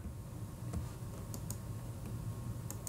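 Typing on a computer keyboard during an online game session, scattered clicky key presses in uneven bursts over a steady background hum, with no voice.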